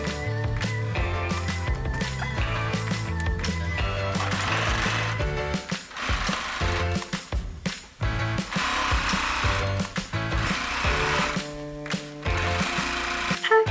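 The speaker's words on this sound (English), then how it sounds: "Just gonna line up all of these edges and sew along here." A sewing machine stitches along the aligned edges of a skirt and its lining, a loud, close, continuous mechanical whir with brief pauses and restarts.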